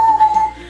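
A person whistles a single sustained, fairly loud tone for about half a second, close up, then it fades into quiet room sound.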